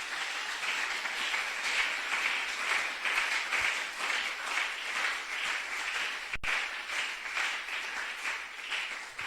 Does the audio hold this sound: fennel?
no